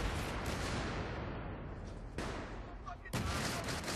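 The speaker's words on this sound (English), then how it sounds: "just lob a grenade." A grenade blast in the video game Battlefield 3 amid gunfire, giving a loud, dense rumble with sudden bursts and a sharp explosive jolt near the end.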